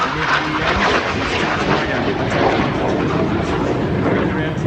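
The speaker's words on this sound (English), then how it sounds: "you should be able to see two Taipan multi-role helicopters" Australian Army Taipan multi-role helicopters fly over an airshow, a loud, steady roar of rotor and engine noise filling the air with a constant rumble throughout.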